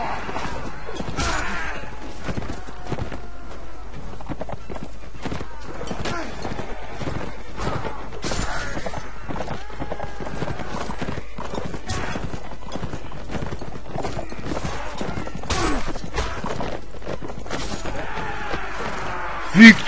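Horses in the medieval combat game Mount&Blade Warband, a continuous clatter of galloping hooves on the ground with occasional whinnies and clashing battle noise, busy and steady throughout.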